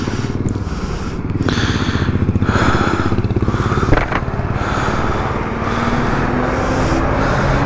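Motorcycle engine running loud and close at the roadside, a rough continuous throb that stays steady without clear stopping.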